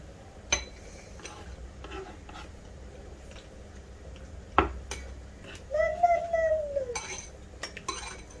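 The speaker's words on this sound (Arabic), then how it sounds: "وهلم البصل ده كله واحطه على البوله" Chopped onions scooped and dropped into a bowl in a home kitchen, heard as scattered knocks and clinks of utensils and dishes at close range, with one sharp clack and a faint squeak partway through.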